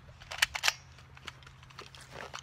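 An airsoft Uzi fires into a lump of clay putty: three quick, sharp snapping shots land close together early on, then lighter clicks and rustling follow at a low level, with no talking.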